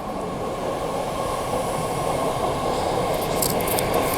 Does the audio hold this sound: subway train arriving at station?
yes